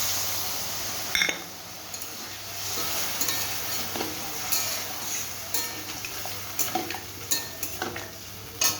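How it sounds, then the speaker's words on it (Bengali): Water goes into a pan of sautéed spices for a thin Bata fish curry, bringing a steady sizzle with scattered clinks of a spoon stirring against the pot. "মশলাগুলো কষানো হয়ে গেছে এবার জল দিয়ে দেবো"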